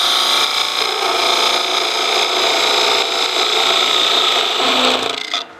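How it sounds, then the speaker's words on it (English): A spindle gouge takes a 3/8-inch-wide cut in wood spinning on a lathe, giving a steady, loud, close-up shearing and rasping hiss that runs unbroken for several seconds before cutting off sharply. "So a 3/8 wide cut with a spindle gouge."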